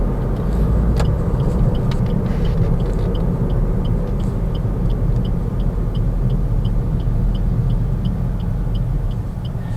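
A 2016 Suzuki Ciaz 1.2 GL sedan driving, heard from inside as a steady low road and engine rumble that holds level throughout, with faint ticking above it and no talk.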